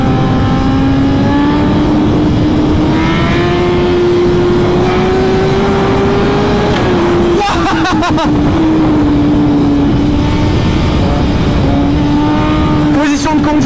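A tuned 2023 BMW S1000RR sportbike making 240 hp accelerates hard with quickshifter up- and downshifts: a loud, close, continuous engine howl that rises in pitch, with brief stuttering cuts at each gear change.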